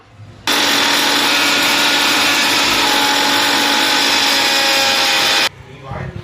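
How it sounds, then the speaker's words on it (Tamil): A kitchen mixer grinder whirs loudly and steadily for about five seconds as it grinds pepper, cumin, curry leaves, garlic and dried chilli. It starts and stops abruptly, with faint room noise before and after. "மிக்சி ஜாரில் எல்லாமே எடுத்து வச்சுருக்கோம் இல்லையா அதை வந்து இப்போ நம்ம வந்து அரைச்சிக்கலாம்"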